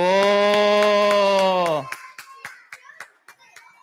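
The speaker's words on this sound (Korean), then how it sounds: "박수" A group of children at a church children's department gathering clap after a long sustained voice, producing a ragged series of sharp, close hand claps that quickly thin out.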